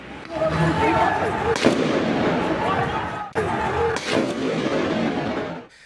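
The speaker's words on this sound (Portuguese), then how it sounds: "o vídeo mostra o momento em que ele é atingido por um disparo de arma de fogo" A gunshot rings out during a street clash between football fans and police, amid a continuous din of crowd noise, engines and crackling bangs.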